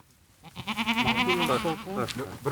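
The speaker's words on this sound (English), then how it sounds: "Not long after the group starts picking olives, we see goats approaching." Goats bleating in an olive grove in the West Bank during the harvest, a run of wavering, nasal cries close by that come in quick succession for a couple of seconds.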